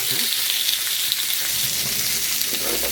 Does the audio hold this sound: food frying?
yes